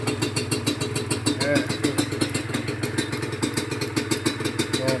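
A Honda NSR150RR two-stroke motorcycle engine running steadily after an engine rebuild, a close, even pulsing idle with rattly clatter throughout, with a voice talking faintly underneath.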